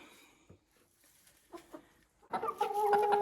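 Hens cluck inside a coop in brief scattered calls, faint at first and then livelier and louder near the end, with no speech.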